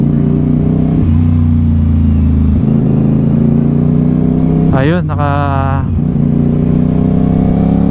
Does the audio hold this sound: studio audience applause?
no